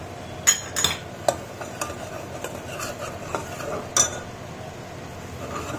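A spoon stirs a tomato-purée curry with salt and dried mint leaves in a pan, scraping and knocking against the metal in irregular strokes, with sharper clinks at the start and a steady scrape after.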